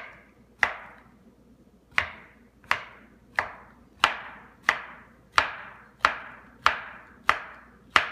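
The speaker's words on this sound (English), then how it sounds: "I cut the mushroom in half, and then I go start at one end, about 1/4 inch slices." A knife cuts portobello mushroom halves into quarter-inch slices on a cutting board, each stroke ending in a sharp knock on the board: about a dozen evenly spaced chops, close and clear, with no talking.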